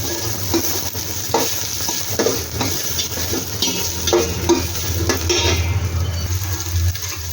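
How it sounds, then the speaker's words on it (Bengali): Chopped onion and green chillies frying in a pan, a steady close sizzle with repeated scraping stirs of a utensil against the metal. "লঙ্কাটা দিয়ে একটু ভেজে নেব"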